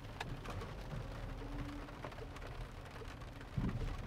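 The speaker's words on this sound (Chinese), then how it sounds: "因為咧今日就落大雨啊，" Heavy rain pours steadily during a thunderstorm, a faint, dense wash of drops with a low rumble underneath and no voices.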